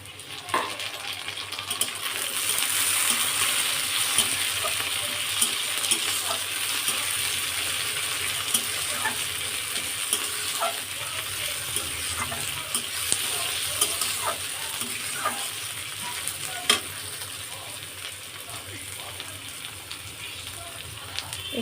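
Tomatoes and green chilies frying in a pan with browned onions, a continuous close sizzle with frequent clicks and scrapes of stirring, loud and steady throughout.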